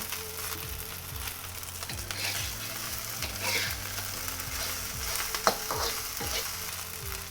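Fried rice with Chinese sausage and egg yolk fries over high heat in a pan, with a loud continuous sizzle broken by repeated scraping stirs and one sharp clack near the end.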